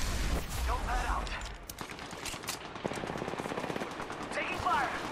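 Automatic weapon fire in the video game Apex Legends, rapid bursts of gunshots at moderate level with a few distant cracks, mixed with game effects.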